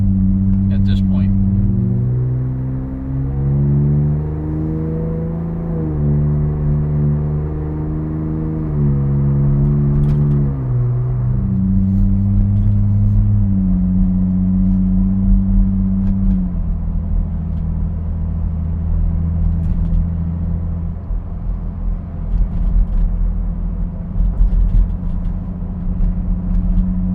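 Ford Bronco Raptor fitted with an MRT H-pipe exhaust, driving at around 2000 RPM, gives a steady low engine drone with mild resonance, the pitch stepping up and down through the shifts and rumbling continuously throughout.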